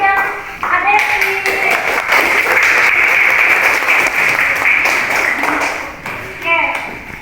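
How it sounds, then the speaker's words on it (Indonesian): A classroom of students claps for two classmates, a brisk burst of many hands lasting several seconds, close and fairly loud, with children's voices mixed in before it fades out. "beri tepuk tangan buat Rofi dan Adesi"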